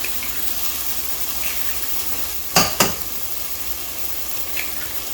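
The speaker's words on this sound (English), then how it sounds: "Turn it down a bit and throw some eggs in there." Free-range eggs fry with garlic in a pan, giving a steady soft sizzle, with two sharp clatters of utensil on the pan midway and a faint tap near the end.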